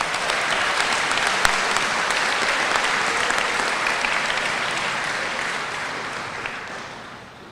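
A school awards-night audience applauds in a steady, full wash of clapping that stays even and then fades slightly near the end.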